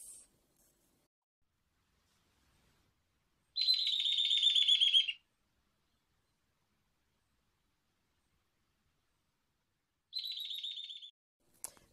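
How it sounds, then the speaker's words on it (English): A brown-hooded kingfisher gives two separate calls, each a rapid buzzy trill lasting over a second, clear and fairly close, with silence in between. "This is the brown-hooded kingfisher."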